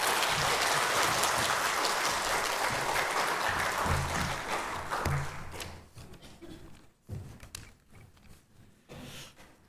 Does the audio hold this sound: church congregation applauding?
yes